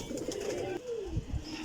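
A flock of Teddy golden cross flying pigeons gives a soft, low cooing that rises and falls close by, with no voices.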